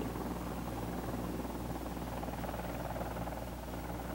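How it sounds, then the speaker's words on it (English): A CH-54 helicopter lifting vertically off the ground into a hover gives a loud, continuous roar of rotor and turbine noise, close and steady for the whole stretch with a low droning hum beneath, and no voices. "Here's a typical takeoff to a hover."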